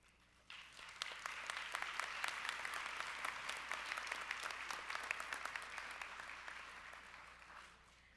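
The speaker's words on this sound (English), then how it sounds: "Now give yourselves a round of applause" Graduates at a college commencement ceremony break into sustained applause, many hands clapping in a dense, steady wash that swells quickly and fades near the end, heard alone without talk.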